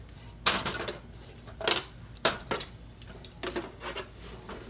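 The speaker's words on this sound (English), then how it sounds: "So now all I'm going to do, put it in the pot here." Browned turkey pieces dropped into a stock pot for turkey stock, several separate clunks and scrapes of meat and utensil against the pot at irregular intervals, close and fairly quiet.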